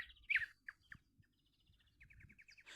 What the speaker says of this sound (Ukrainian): Ну, солов'я можна слухати довго.